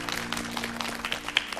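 A studio audience on a Korean television talk show gives brief, moderately loud applause made of crisp scattered claps.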